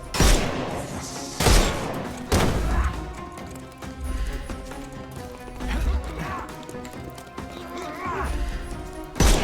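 A burst of loud gunshots in the Sherlock Holmes Chapter One video game, several sharp blasts spaced a second or two apart over busy game noise and clattering effects.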